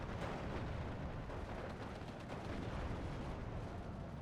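Anti-tank guns fire in the Steel Division video game, with dense, continuous booming and crackling blasts that sound like a heavy battlefield barrage, steady and loud throughout with no talking.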